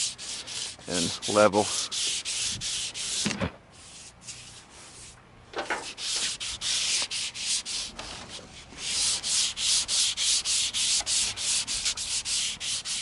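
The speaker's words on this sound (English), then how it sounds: "now we're gonna sand this before we add another layer, just so it's smooth to touch" Sandpaper works over a spray-painted panel on a squarebody Chevy truck, close rhythmic rubbing strokes in steady bursts with short pauses, and a brief voice speaking near the start.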